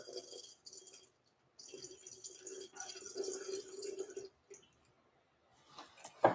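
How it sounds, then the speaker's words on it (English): Water is poured into a mixing bowl, a measured 184 grams, while making sourdough. Soft trickling comes in a few short bursts with brief pauses, close by and fairly quiet, and a voice is heard now and then. "So I'm going to put 184 grams of water"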